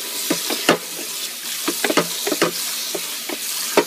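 A hot 360 Cookware pan is cleaned after cooking steak, giving a soft continuous sizzle broken by irregular scrubbing and scraping strokes, close by.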